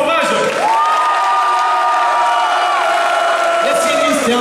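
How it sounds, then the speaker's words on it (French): A crowd at a concert in Fréjus cheers and whoops loudly, with shouting voices and some clapping forming a continuous, close, excited roar. "Vous n'hésitez pas, vous faites du bruit, vous tapez des mains, vous criez surtout"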